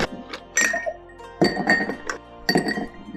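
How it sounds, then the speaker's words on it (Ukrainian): Ice cubes dropped into a glass while mixing a Manhattan cocktail with red vermouth and orange bitters, three bright clinking bursts in quick succession, close and clear. "Додаємо лід"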